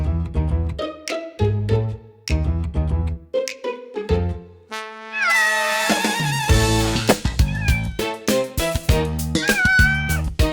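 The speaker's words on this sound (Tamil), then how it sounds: "என்ன ரோகிணி, பூனையை கொண்டு வந்து விட்டுருக்க?" A cat meows several times in a domestic drama scene, the drawn-out, rising calls clustering in the second half and sounding fairly close, with music and other household sounds running around them.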